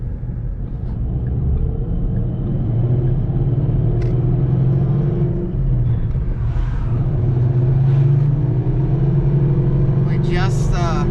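A car engine idles steadily in a low, constant rumble after being cleaned and wiped down, with brief clicks and a voice speaking near the end.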